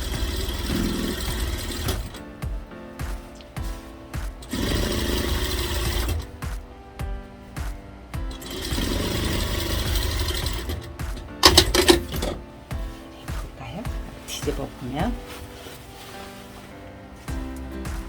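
A sewing machine stitches a layered flared skirt in repeated bursts, its loud mechanical whirring starting and stopping as each seam section is run, with short pauses and some handling clatter between runs.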